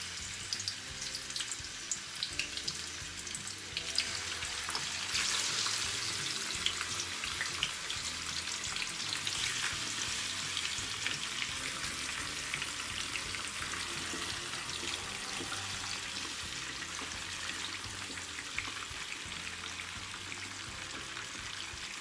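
Pork ribs frying in a generous amount of hot olive oil in a pot, a dense, steady hiss and sizzle that swells slightly early on and then holds evenly throughout.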